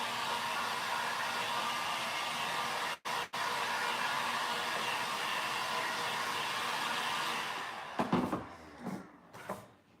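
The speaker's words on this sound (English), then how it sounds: "I just threaten it with the heat gun and it dries." Heat gun drying a surface during a WoodUbend craft demonstration, a steady loud broadband blowing roar that runs almost continuously, with two brief cutoffs early on and choppy bursts near the end.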